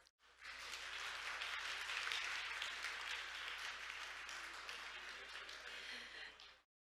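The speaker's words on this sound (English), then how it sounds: "let's give our panel of experts and our moderator another big round of applause." An audience gives a sustained round of applause for a panel of experts and a moderator at a maritime conference, dense and even from start to finish before cutting off abruptly.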